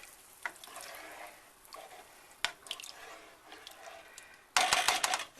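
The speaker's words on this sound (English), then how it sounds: "And then I'll give it a stir." Dinner mixture stirred in a pan: soft scraping and wet stirring with a few drips and clicks, moderate and close, ending in a louder burst of sizzling or clattering.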